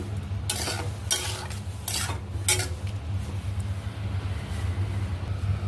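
A spoon scrapes and stirs jaggery into orange peel curry in a pan, with three distinct scraping strokes over a steady low kitchen hum.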